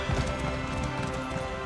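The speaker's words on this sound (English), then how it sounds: "let's get on our horses" Horses galloping in Elder Scrolls Online give a quick, rhythmic clip-clop of hooves in the foreground, fairly loud and steady over a low game background with no talk.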